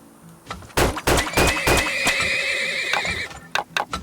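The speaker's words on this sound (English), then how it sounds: "I want to have at least 23 horses." Horses in a farming simulation game give repeated close, loud neighs and whinnies over quick hoof clip-clops, in a rapid cluster of bursts.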